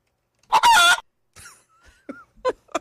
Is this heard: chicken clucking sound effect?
yes